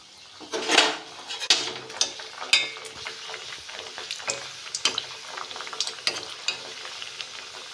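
Pieces of nimki dough made from maida frying in oil, a close, continuous crackling sizzle broken by repeated clicks and scrapes of a utensil against the pan, with no one speaking.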